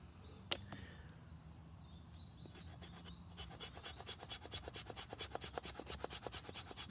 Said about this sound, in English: I think I also found the best spot to scrape the fire steel.